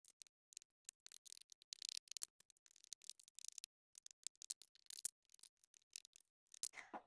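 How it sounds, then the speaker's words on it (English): Scissors snip through lining fabric around a pattern piece for a crocheted fanny pack sling bag, close and crisp, in quick irregular bursts of cuts with short pauses between them. "I'm just going to hold it down with one hand and cut around the edges"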